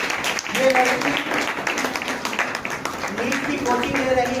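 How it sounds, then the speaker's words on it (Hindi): Applause at a college felicitation ceremony, a steady wash of clapping from an audience that mixes with voices talking throughout. "थोड़ा तालियां हमारे लोगों से"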